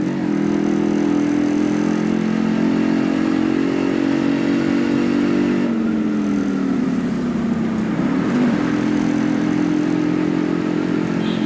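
A Yamaha RX100 two-stroke motorcycle is ridden, its engine droning steadily and loud throughout, shifting pitch as it changes speed partway through and then settling back into a constant run, with no talk.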